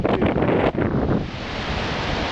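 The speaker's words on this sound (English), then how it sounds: "the wind is blasting us here" Strong gusts buffet the microphone outdoors in front of a university building, a loud roaring rumble that swells and dips, then settles into a steady blustery rush with no talking.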